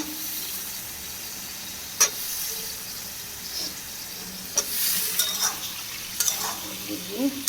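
Potatoes being stir-fried in a spice masala, a low steady sizzle broken by a few sharp clanks and scrapes of the spatula against the pan.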